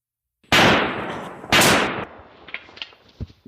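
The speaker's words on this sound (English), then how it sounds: "In another, by gunfire." Two loud, close gunshot effects from a short film, each a sharp crack followed by a decaying rumble about a second apart, then scattered small clicks and debris-like ticks.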